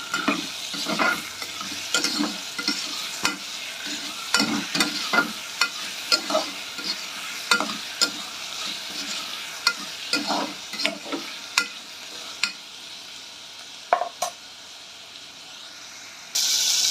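Chopped tomatoes fry in a pan for a mutton liver gravy, a steady sizzle punctuated by rhythmic scraping strokes of a spoon, repeated every second or so and easing off toward the end.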